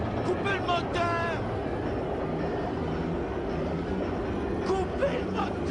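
An engine drones steadily and loudly throughout, a low continuous rumble with people shouting over it.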